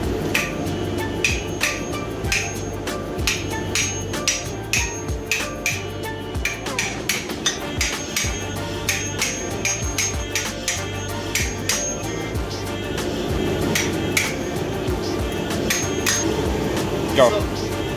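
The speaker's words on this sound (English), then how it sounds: "When in doubt, hammer out." Repeated sharp hammer blows drive wheel spacers onto the hub of a Pontiac G8 GXP, the strikes ringing out in an uneven rhythm with metallic clinks, close and loud against a steady background hum.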